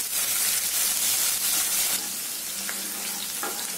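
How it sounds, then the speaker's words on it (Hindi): Chopped green chillies fry in hot oil with tempered mustard seeds and cumin, giving a loud, dense, crackling sizzle right up close that eases slightly partway through, with a few faint stirring scrapes and no talk. "थोड़ा सा मिर्ची को फ्राई कर लेंगे हम तेल में 2 से 3 सेकंड के लिए।"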